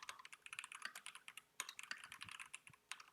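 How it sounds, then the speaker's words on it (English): Quick, uneven clatter of fingers typing on a computer keyboard, quiet and close, with bursts of keystrokes and brief pauses, no talk over it. "while he's typing that"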